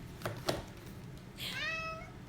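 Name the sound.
cat meowing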